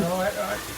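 Pork sizzles on a Thai mookata grill pan, a steady close frying hiss lasting under a second.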